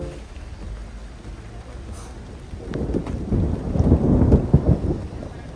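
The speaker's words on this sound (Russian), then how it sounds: "Как оказалось в конце пути, мы заехали в грозовую тучу." A thunderstorm with rain in a laurel forest park on Tenerife: steady rain hiss gives way to a deep, rolling thunder rumble that swells loud and close in the second half.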